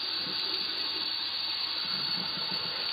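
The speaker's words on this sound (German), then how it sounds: "tue die so ein bisschen in den Wasserhahn rein. Und lass einfach so ein bisschen das Wasser reinlaufen." Tap water runs in a steady, even hiss as it fills a shisha base being rinsed for cleaning, close and continuous with no talking.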